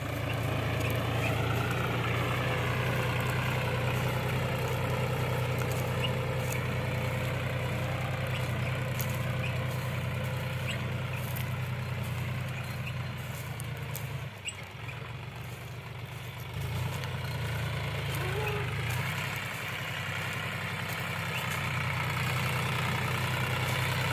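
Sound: John Deere tractor engine running in field during sowing

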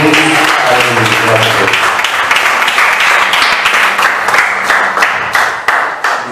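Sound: congregation applause in church

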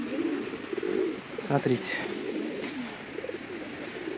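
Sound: hungry birds cooing on a Moscow street

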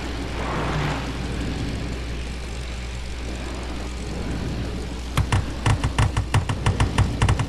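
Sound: WW2 fighter plane engine in a video game

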